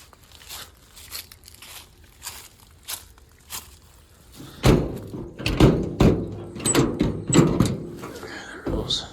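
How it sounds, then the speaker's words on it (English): A stuck door on an old, rough Chevy truck is forced open, with several clunks, thumps and rattles coming close together in the second half after quieter knocking, and someone talks nearby. "it ain't opening that door"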